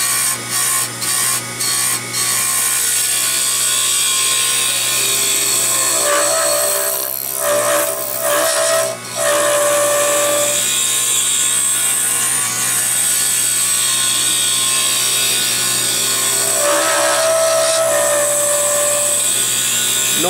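A Bethlehem olive wood pen blank spins on a lathe as a tool cuts it down to size, giving a steady whirring drone with ratcheting scrapes and brief catches, plus a few sharp clicks near the start.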